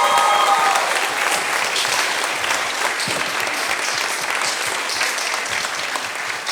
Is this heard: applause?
yes